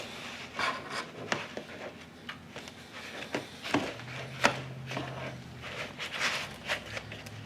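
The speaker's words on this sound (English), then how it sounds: "Just want to kind of knead it like you would bread." Boilie base mix dough made with eggs is kneaded by hand, giving soft repeated squishes, rubs and dull thumps at an irregular pace, close and fairly quiet.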